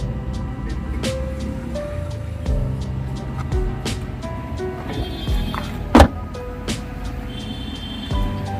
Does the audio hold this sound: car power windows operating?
yes